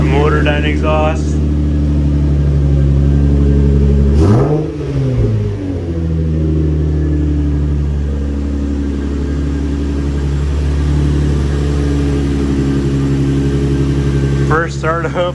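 Infiniti G35 with G37 front-end conversion idling after its first startup in weeks, the engine loud and steady with a brief rev dip and rise near the middle, plus short bursts of voice near the start and end.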